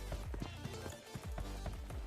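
Footsteps in the mobile shooter PUBG Mobile Lite: a steady run of heavy, rhythmic thudding steps, fairly loud and close, with no talking over them.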